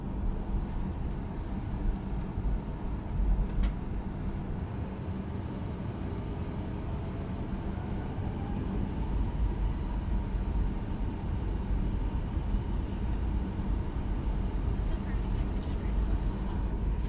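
A steady, even engine rumble fills the cabin of an airliner taxiing toward the far runway at Tampa Airport, holding constant throughout with no voices.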